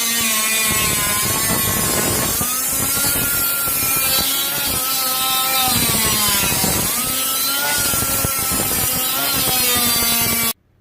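A loud, continuous power tool grinding metal with a steady whine that rises and dips in pitch, running without pause until it cuts off abruptly near the end.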